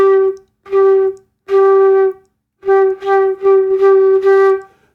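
Low-range flute played with a middle-upper embouchure, giving a purer, thinner tone across a short phrase of about six separate notes, close and fairly loud, solo with no speech.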